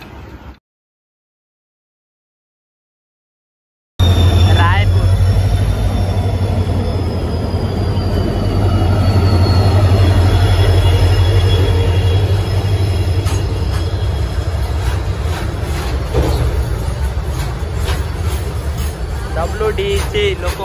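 Bhadrak to Cuttack MEMU train running on the line, a loud steady rumble of wheels on rails with squeals and rhythmic clicks, heard from inside after a silent start, with voices talking over it.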